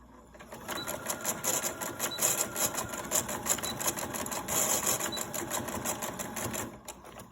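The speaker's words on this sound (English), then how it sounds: "I'm going to lower my presser foot, and I am just going to go back and forth over it to lock it in place" A sewing machine runs a rapid continuous stitch back and forth over a seam on a grocery bag holder, a steady close mechanical whirr lasting several seconds before stopping.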